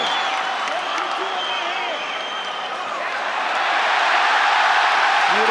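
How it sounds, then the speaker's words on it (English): Mixed martial arts fight crowd in an arena roaring and applauding, a dense sustained wall of cheering that swells louder toward the end, with a commentator talking over it. "Listen to this crowd."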